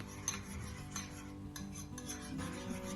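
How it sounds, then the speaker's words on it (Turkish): A spoon scrapes and swirls around a bowl, soft rhythmic stirring of thick yogurt being thinned with warm milk, close and quiet. "2 kaşık ilave edip biraz daha özüyorum yoğurdumu"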